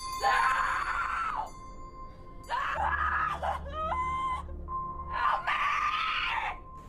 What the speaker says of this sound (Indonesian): Whitney pun berteriak minta tolong